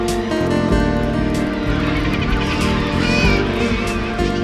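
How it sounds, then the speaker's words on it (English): A seabird colony of kittiwakes and murres, thousands of birds on cliffs, raises a dense, unbroken cacophony of overlapping honking and squawking calls. It is loud and close throughout. "wild cacophony of sound with thousands and thousands of birds"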